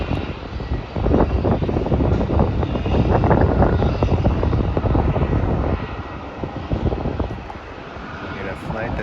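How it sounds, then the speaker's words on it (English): Virgin Australia airliner departing Melbourne for Sydney, a broad steady engine roar with wind buffeting, heard from a distance and continuing throughout. "the flight that's just going to be departing now is a flight to Sydney. That is the Virgin Australia flight"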